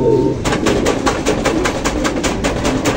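Pigeons coo in a close, continuous chorus, soft throaty calls repeating in an uneven rhythm with a faint rustling beneath.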